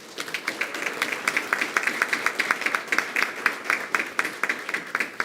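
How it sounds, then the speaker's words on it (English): A big round of applause for the Weslaco Panthers at a school board meeting: dense, steady clapping from many hands in a room, loud and sustained throughout. "let's have a big round of applause for the Weslaco Panthers"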